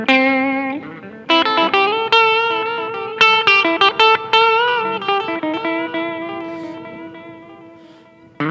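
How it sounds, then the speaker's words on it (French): Electric guitar played through an AMT S1 Soldano pedal with its gain at zero, sounding fairly clean: picked notes and chords ring out loud and near with sustained, slowly decaying tails and no talking. "on va mettre la pédale en route avec le gain à 0"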